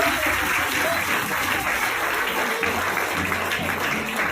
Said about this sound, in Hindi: अनुरोध करो तो ताली बजाएंगे, धन्यवाद देवा